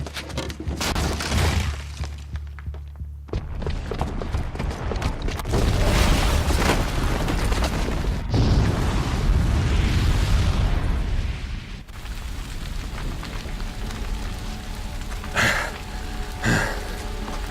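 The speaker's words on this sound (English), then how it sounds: "the booby trap on the bomb downstairs is gonna get set off" A bomb's booby trap detonates in Horizon Zero Dawn: a long, loud roaring blast with crumbling, rain-like debris that swells and rumbles for several seconds, then gives way to a lower wash with a few sharp hits near the end.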